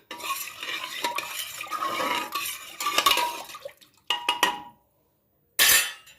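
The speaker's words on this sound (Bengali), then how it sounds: "একটু নাড়িয়ে নিচ্ছি" Cauliflower is stirred with salt, turmeric and raw mustard oil in a bowl: a spoon scrapes and clinks in bursts, followed by a silent pause and a final short clatter.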